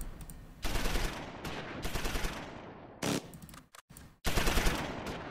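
Sustained bursts of machine-gun fire from a Normandy beach-landing battle in the game Close Combat: Normandy, US troops at Uncle Red near Quinéville, loud rapid volleys broken by short gaps, no talking.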